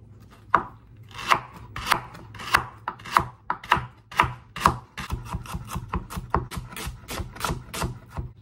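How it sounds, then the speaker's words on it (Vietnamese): A knife chops rapidly on a cutting board, mincing two frozen stalks of lemongrass, with sharp close knocks in a steady, quickening rhythm that turns into dense, fast chopping. "hai tép xả này còn đông đá mình băm nhỏ"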